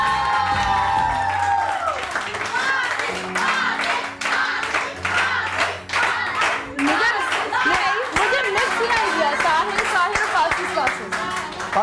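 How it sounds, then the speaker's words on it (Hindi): Studio audience clapping on a Pakistani morning TV show, a rhythmic burst of hands that swells into steady applause, with a host speaking over it and music underneath. "हाँ, तालियां तालियां।"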